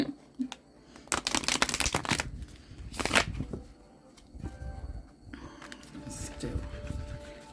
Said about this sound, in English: Now I have to shuffle again.